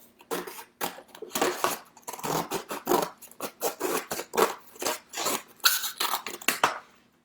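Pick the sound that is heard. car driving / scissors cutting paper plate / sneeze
scissors cutting paper plate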